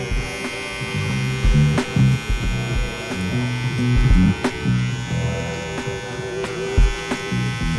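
Suprent Pro Black Obsidian hair clippers running at 7,000 RPM, a steady electric buzz with a high motor whine, close and continuous, broken by light handling knocks and no talking.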